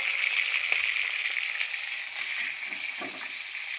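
Fish pieces shallow-frying in oil in a pan give a steady, close, even sizzling hiss that holds throughout, with faint crackles and no voices.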